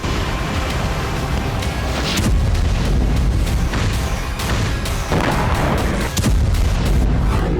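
Iskander missile strike explosions in Kharkiv, a dense barrage of loud booms and blasts rolling one after another with heavy low rumble, heard without talk.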